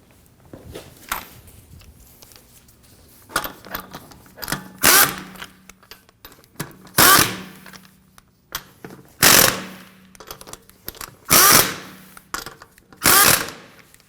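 A power tool snugs down wheel nuts on a 2016-2022 Honda Pilot during rear strut replacement, firing in about six loud, close, rattling bursts with quieter clinks and handling noises between them.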